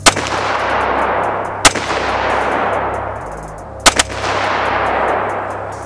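A custom-built rifle fires several sharp, loud shots, one at the start, another a moment later and a quick pair near the middle, each cracking out over a steady background hiss with no talking.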